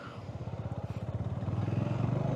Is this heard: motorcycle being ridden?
yes